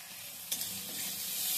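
Turmeric and homemade red chili powder frying in a pan, a steady close sizzle with a brief stirring scrape, then a rising hiss.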